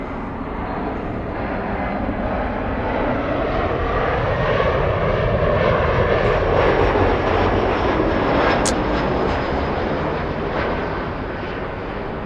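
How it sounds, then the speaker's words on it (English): Superjet jet airliner departing LAX, a loud sustained engine roar that swells and stays steady across the clip, heard from nearby with no talk over it. "Caution, wait turbulence for the Superjet departing."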